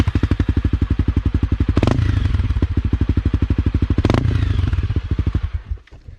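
Honda CRF 250L Rally dirt bike with an aftermarket exhaust, idling close up with a fast, even pulse of thumping beats, then revved twice in quick blips that rise and fall before the engine settles and cuts out.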